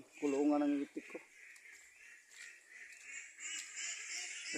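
Ducks in their pen give a short burst of loud, harmonic quacking near the start, then a few quieter calls over a steady background of farmyard noise and splashing.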